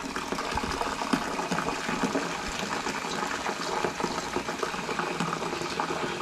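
Water being mixed with a protein supplement for pigs on a farm gives a steady, soft churning and bubbling of liquid, continuous and fairly faint, with no talking.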